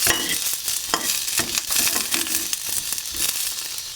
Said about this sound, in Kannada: ನೆಕ್ಸ್ಟ್ ಇವಾಗ ಮೆಣಸಿನ್ಕಾಯಿ ಹಾಕ್ಕೊಂಡು ಚೆನ್ನಾಗಿ ಫ್ರೈ ಮಾಡ್ಕೊಳ್ಳಿ.